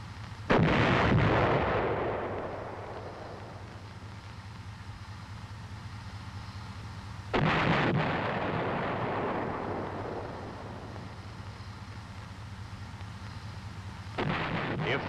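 M551 Sheridan tank gun firing HEAT rounds, heard as two loud, booming blasts about seven seconds apart, each decaying into a long rumbling echo over a steady low engine drone, with the start of a third blast at the end.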